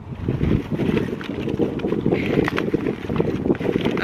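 Steady gusty wind buffets the microphone with a low, rumbling roar that swells and eases throughout.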